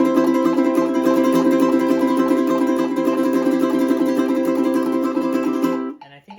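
Ukulele triplet strumming pushed very fast, with the metronome maxed out at 208 bpm; a dense, continuous blur of bright strums holds steady and loud, then cuts off into a short murmur of speech.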